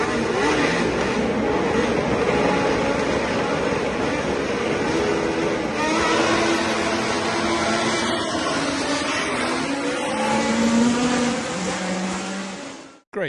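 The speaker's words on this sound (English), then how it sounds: "so that you can hear what Formula One cars used to sound" Formula One cars with Cosworth DFV engines race past, among them a McLaren M23, their high-pitched screaming engines loud and continuous as revs rise and fall and several cars pass in succession.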